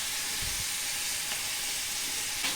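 Onion and salt dropped into a hot pan for beetroot stir-fry, producing a soft steady sizzle and hiss with faint brief thumps near the start, quiet and continuous, no talk.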